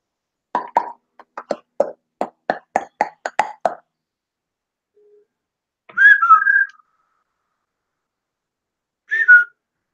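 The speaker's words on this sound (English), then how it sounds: "Are you whistling at me" A person lets out a couple of short, rising-and-falling whistles, close and clear, after a quick run of dry plopping clicks, with silence in between.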